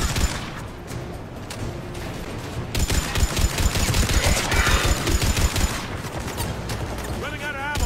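Sustained automatic gunfire in the Mass Effect 3 video game, dense rapid bursts that grow louder and more continuous after a brief lull, with a voice briefly heard over the shooting.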